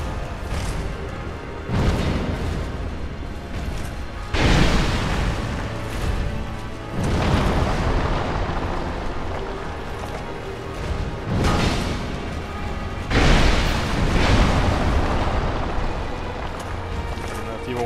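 Several heavy, booming impacts from an enemy's spinning attack in Dark Souls II, in the Undead Crypt, land at irregular intervals, each a loud burst that fades into a rumbling wash.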